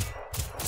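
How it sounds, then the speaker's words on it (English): Rifle fire in the video game Generation Zero comes as two loud, broadband bursts about a third of a second apart over dense, noisy game audio. "This is a rifle."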